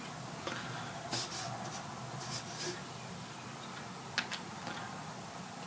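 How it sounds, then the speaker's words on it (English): Pencil lines being drawn for a border on an A3 sheet on a drawing board, heard as a faint continuous scratching with a few brief clicks and taps of drafting tools. "we're going to learn how to draw a border and the title block on our A3 page"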